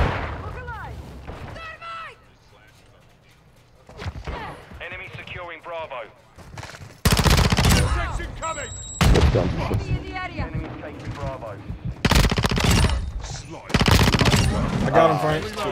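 Gunfire from Modern Warfare 2 multiplayer: loud, dense bursts of automatic fire and explosive blasts crowd the second half, after quieter stretches where players call out to each other over the game's background sound.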